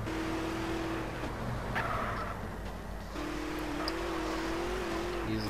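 A car engine hums along in the Multi Theft Auto game, a quiet steady tone that fades out briefly mid-drive and then returns slightly higher as the vehicle keeps moving.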